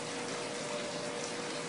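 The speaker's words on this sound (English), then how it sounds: "I'll go ahead and throw that water" Water poured into a bucket while brewing aerated compost tea, a steady broadband gush and splash lasting under two seconds, close and fairly loud with no talk.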